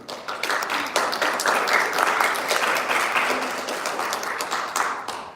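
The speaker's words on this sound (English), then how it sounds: "A round of applause for Sahana." A London book launch audience applauds the author, Sahana Ravi, with a dense, steady round of clapping from a roomful of people, close and sustained for several seconds before fading slightly at the end.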